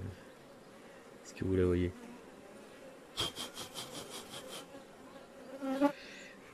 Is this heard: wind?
no